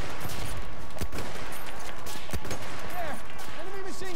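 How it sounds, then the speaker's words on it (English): Enemy machine gun fire in a military shooter video game, heard as scattered sharp cracks and bursts amid a busy battlefield, with voices talking over it. "There, enemy machine gun."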